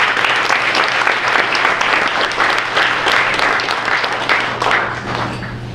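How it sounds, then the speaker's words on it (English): Loud, dense applause from a crowd gathered in a restaurant venue in Oakland, many hands clapping steadily and continuously with a low steady hum underneath. "please give them a round of applause."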